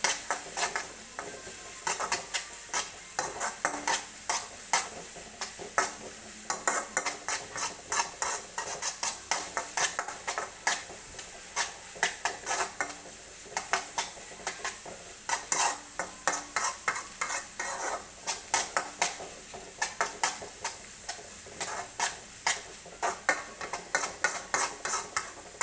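Onions sautéing in a pan for a green papaya thoran, stirred with a spoon that scrapes and taps in a steady, rapid rhythm over a soft, constant sizzle, close by and without talk.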